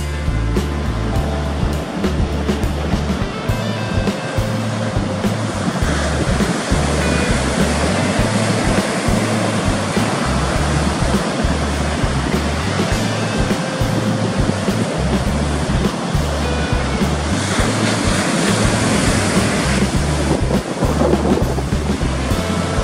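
Strong surf at a beach break, large waves crashing from offshore under a strong onshore wind, a loud continuous roar with wind buffeting the microphone throughout.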